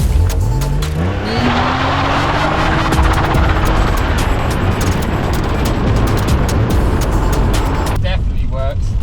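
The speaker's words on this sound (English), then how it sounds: "spin up the wheels just to see if it works" A BMW E36 328i with traction control switched off revs up and spins its wheels, engine note climbing into a loud sustained roar with tire noise, while people talk and call out over it.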